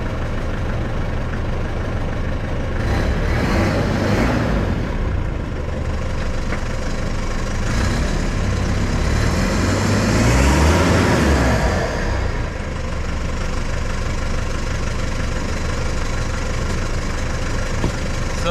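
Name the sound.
Nissan Navara engine running as it starts to move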